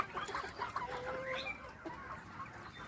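Chickens on a poultry farm, several quick clucks and a short drawn-out squawk at close range, fairly quiet, with no talking.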